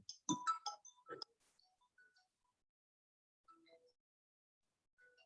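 A phone ringtone from a school comes through faintly during an online class: a brief cluster of electronic tones, then scattered soft beeps with gaps of silence.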